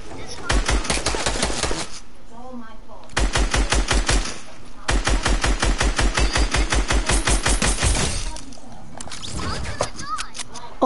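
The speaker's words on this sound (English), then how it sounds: "Stop shooting my base." Rapid automatic gunfire in a video game firefight at a base: long, evenly paced bursts of machine-gun shots, loud and close, broken by short pauses, with faint voices in the gaps.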